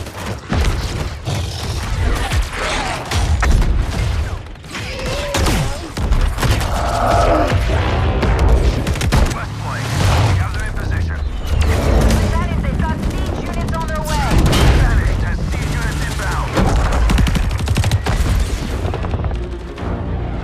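Heavy booms and machine-gun fire from enemy ground troops in the Halo Wars 2 strategy game, loud and sustained throughout, with voice radio chatter layered over the battle noise.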